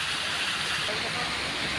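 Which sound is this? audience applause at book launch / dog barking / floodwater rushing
floodwater rushing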